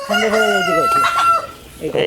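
On a low-cost poultry farm a rooster crows once, loud and close, a long drawn-out call with clucking hens around it, then a brief cluck follows.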